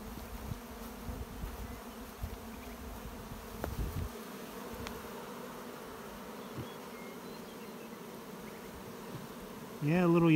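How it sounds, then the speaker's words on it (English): A dense, continuous hum of many honey bees buzzing near the hive, steady and droning with occasional closer passes. "Look at the bees"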